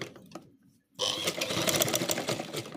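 After a brief quiet pause, a sewing machine starts up close and loud, stitching a waistband with a fast, steady, slightly rattling drone that continues to the end.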